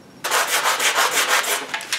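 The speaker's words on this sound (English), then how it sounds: "I'm gonna sand extra hard over the PVC lettering here" Close, steady rasping of sandpaper scrubbing back and forth over PVC pipe lettering, in quick rhythmic strokes after a brief quiet start.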